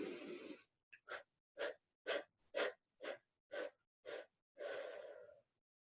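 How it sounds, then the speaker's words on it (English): Pranic breathing: one long nasal exhale, then eight quick forceful puffs through the nose in an even rhythm, ending with another long exhale, close and clear with silence between. "on the exhale, we're going to exhale out 8 quick exhales."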